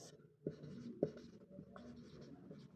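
Chalk or marker strokes on a classroom board during a physics lesson, a few short scratchy strokes with two sharper taps, fairly quiet against a faint room hum and no talk.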